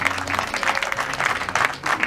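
Wedding guests applaud the arriving family, a close burst of crowd clapping in steady waves with some voices mixed in.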